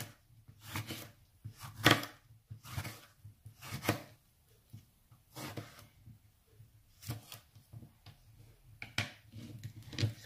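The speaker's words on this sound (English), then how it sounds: "Just slice it like this." A knife slices through a cucumber on a cutting board, giving about a dozen crisp, close chopping taps in an uneven rhythm with short pauses between strokes, alone and fairly quiet.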